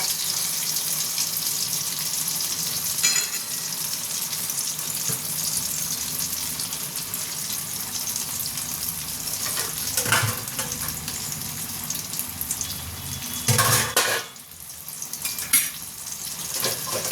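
Lentil dhoka pieces fry crisp in oil with a dense, even sizzle throughout, with occasional clinks and stirring noises near the end.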